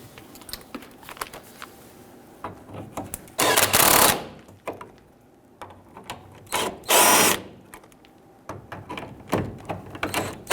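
Power tool tightening the fuel tank strap bolts on a Toyota Tundra 4.7L V8, two short bursts of loud whirring a few seconds apart, with quieter ratcheting and clicking in between.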